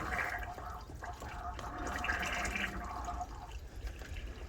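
Water trickles and drains from an 18 gallon overland water tank, a steady running flow with a few drips, fairly close and continuous for several seconds with no voices.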